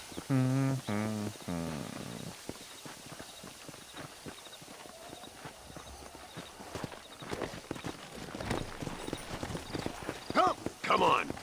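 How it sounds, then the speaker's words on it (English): Horse hooves clip-clop steadily in Red Dead Redemption Remaster, a video game, with occasional neighs, running beneath someone speaking over most of the passage. "There should be some horses for us across the way."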